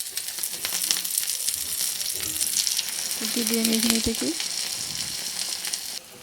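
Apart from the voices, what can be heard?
pumpkin flower fritters frying in oil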